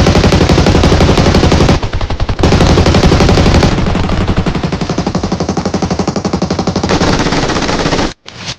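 Sustained machine-gun strafing in the Peace Elite battle-royale game, a loud rapid stream of shots that drops out briefly twice and cuts off sharply near the end.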